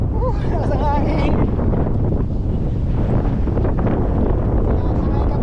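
A constant loud gale on Mt. Batulao batters the mic with deep rumbling buffets, while voices speak faintly underneath.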